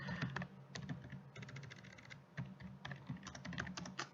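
Rapid typing on a computer keyboard during C programming, with a steady run of light, close clicking keystrokes coming in quick bursts, alone, with no talking.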